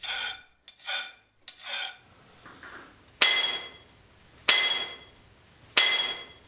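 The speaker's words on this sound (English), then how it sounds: "As he strikes the drill with his hammer, a tiny amount of rock is chipped away." Several sharp metallic strikes of a hammer on a steel rock drill ring out one after another at a steady, unhurried pace, each leaving a brief bright ring, in a copper mine.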